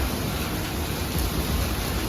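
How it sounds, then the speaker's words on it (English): Rain falling outside, heard as an even, dense broadband wash with no distinct drops or breaks across two seconds, fairly loud and with no one speaking. "So it's actually raining outside."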